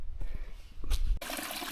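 Spring water flows along the Appalachian Trail in the 100-Mile Wilderness, a soft trickle and gurgle with a few small splashes that swells into a louder rushing pour near the end.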